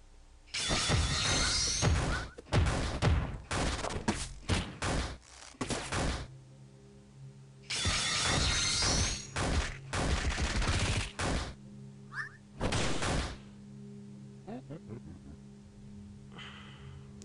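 Knuckle drop attack in the video game Lisa: loud bursts of crashing, clattering impacts in two main clusters, followed by quieter scattered hits and tones.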